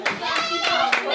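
Close, lively hand clapping from a small birthday gathering cheering a gift, with brisk overlapping claps and a voice chattering underneath.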